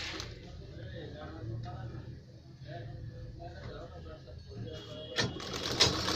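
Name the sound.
sewing machine stitching a ladies' kurta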